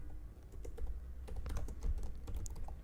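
Steady typing on a computer keyboard, a run of quick clicking keystrokes at moderate level over a low background hum, with no talking.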